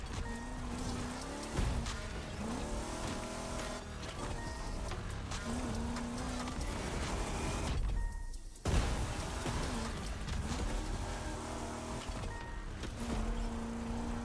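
Car driving in The Crew Motorfest around O'ahu, a continuous engine drone with shifting revs and a brief dip midway, under background music and occasional talk.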